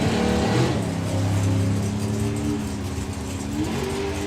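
Leah Kellett's Dolly Daydream Super Comp dragster launches off the line at a drag racing meet, its engine a loud, sustained roar that holds steady and close with a slight pitch shift near the end.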